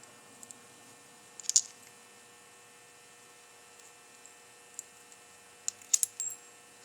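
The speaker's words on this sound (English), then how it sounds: "Copper washer." A small copper washer from a 1935 Packard 8 engine is handled, giving a few bright metallic clinks in two brief clusters over a steady background hum.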